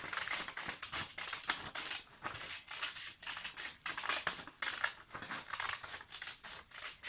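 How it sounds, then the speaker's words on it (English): Rapid, rhythmic snips of scissors cutting through paper, close and crisp, continuing steadily with brief pauses, no voices. "So you just want to cut out your design once you've drawn it."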